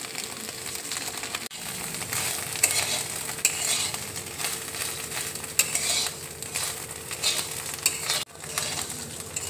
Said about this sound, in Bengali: এবার দেখো চিড়ে ভাজাটা আমি ডিমের মধ্যে দিয়ে দিচ্ছি।